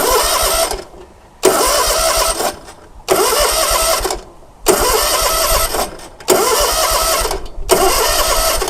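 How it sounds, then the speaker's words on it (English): A zero-turn mower engine cranked over by its starter solenoid in five separate bursts, each a loud, close grinding whir lasting about a second and a half, divided by short silent gaps. "The engine should turn over, no problem."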